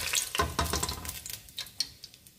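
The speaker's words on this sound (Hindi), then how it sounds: "इसी तरह हम सारे अंडे फ्राई कर लेंगे।" Eggs frying in hot oil for an egg pulao, with a crackling sizzle broken by a few sharp clatters and scrapes of a utensil in the pan, close and fairly loud, with no voices.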